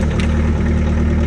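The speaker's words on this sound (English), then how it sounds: "I'm going to start right up. This is the cold engine." A Giant machine's engine idling steadily just after a cold start on a late-September day in Asheville, North Carolina, a loud, close, even low rumble with a constant throb.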